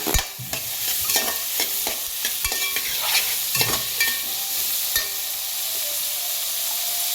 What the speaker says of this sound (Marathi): आता आपण ह्याच्यामध्ये ही 2 टॅमॅटो कापून घेतलेले आहे ते घालून घेऊया.